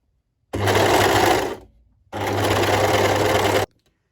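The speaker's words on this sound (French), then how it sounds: "si tu as une surjeteuse comme moi, on va venir surjeter tout le bord." Serger overlocking the edge of a fabric piece, running in two steady loud bursts of about a second each with a brief pause between, close up and alone.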